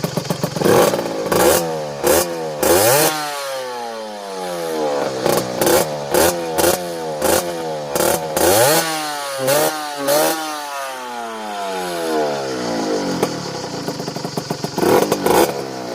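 A Beta Track RR 50 2018 trials motorcycle engine, warm from riding, revved hard in repeated sharp bursts, rising and falling pitch with idle gaps between, loud and close, no voices.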